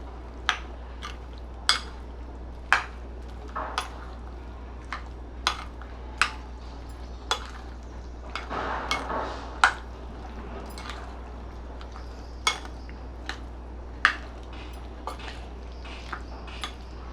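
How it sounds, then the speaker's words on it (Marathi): Spoon stirring pomegranate seeds and banana into a creamy fruit salad in a bowl, giving a steady run of light, sharp clinks roughly every second against a low background hum, with a brief wet squish midway. "आणि डाळिंब हे आता छान मिक्स करूया आपण"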